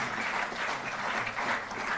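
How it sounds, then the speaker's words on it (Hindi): Steady audience applause at an award ceremony for national sports players, dense even clapping from a crowd for the full stretch. "जोरदार तालियों से आप अभिनंदन करें"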